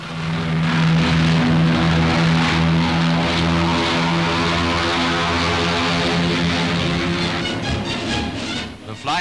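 The Douglas B-19, an 82-ton experimental bomber and the biggest land plane of its day, flies on 8,000 horsepower of propeller engines with a loud, steady droning roar that holds throughout.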